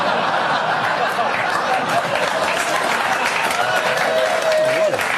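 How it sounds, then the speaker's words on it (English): Football supporters in a stadium crowd clap after a goal, a steady dense spread of applause running throughout with some voices and laughter mixed in. "When even your supporters can't be bothered clapping in the correct manner after a goal."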